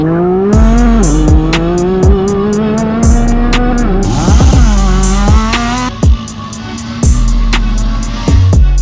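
Yamaha YXZ side-by-side fitted with a homemade full exhaust, its engine revving loudly in repeated rising and falling bursts with sharp shifts between them, close and unbroken, with no talking.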